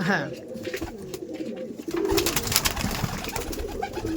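Madrasi pigeons released in an open place, with a burst of wing flapping and fluttering as the birds take off, soft cooing and people talking nearby.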